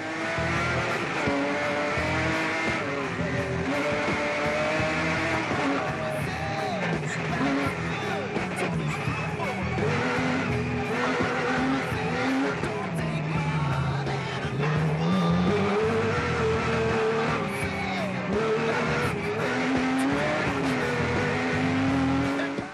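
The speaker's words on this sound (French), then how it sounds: "Redécouvrons le départ à bord de la voiture" Loud, continuous roar of several off-road race cars and trucks revving hard at the start of a 24-hour off-road race in France, heard from inside a car, with pitch rising and falling as it accelerates, plus tire noise.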